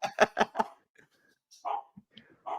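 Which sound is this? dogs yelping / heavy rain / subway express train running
dogs yelping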